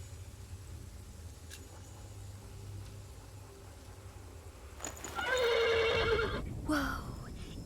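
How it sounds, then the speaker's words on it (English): Horse neighing in the Pillars of the Earth video game, a loud whinny after a quiet stretch of ambience, followed by a shorter snort and brief hoof sounds. "The horse nearly woke the guard."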